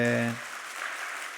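A church congregation at a Sunday service bursts into applause just after a held musical note cuts off, the clapping continuing as a dense, moderate wash.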